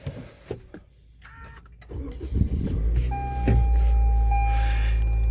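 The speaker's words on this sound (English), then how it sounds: "We're going to start up the Corolla out." Toyota Corolla engine cranking and starting up, with faint clicks and beeps first, then the engine catching into a steady low idle hum that stays loud and close.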